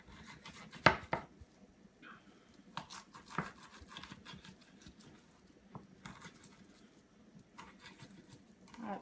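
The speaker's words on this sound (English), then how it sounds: "We're going to mince that using a nifty garlic tool." Fresh peeled garlic cloves being minced with a hand garlic tool for bread dough, giving quiet repeated chopping taps and clicks at an uneven rhythm, close by and fairly faint.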